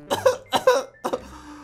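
A voice acts out coughing for a sick character in a Minecraft family role-play, in a quick series of short, close, throaty bursts.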